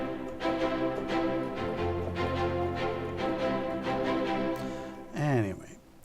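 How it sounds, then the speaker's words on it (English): Contemporary strings from the Afflatus sample library play spiccato, bows striking the strings in short bouncing notes at a steady rhythm, ending in a brief upward sliding flourish. "spiccato is basically when you strike the string with the bow"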